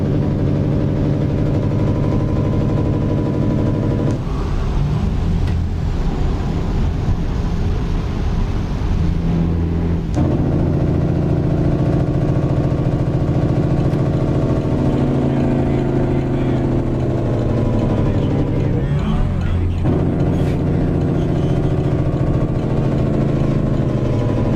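A heavy truck engine in American Truck Simulator, driving through snow, drones steadily and loudly throughout, its low rumble shifting in pitch with a few gear changes and throttle swells, with no voices.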